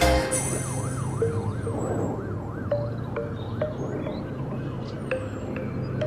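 An ambulance siren wails continuously with a rising and falling tone, moderately distant over rumbling traffic noise on the road from Banjarbaru to Banjarmasin.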